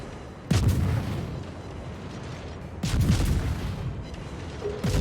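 Naval gunfire from warships in the video game World of Warships: two loud, close booming salvos about two seconds apart, each trailing into a rumbling decay, followed by a softer third report.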